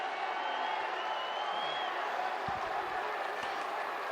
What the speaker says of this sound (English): The fans cheering the name of Rennie Matua.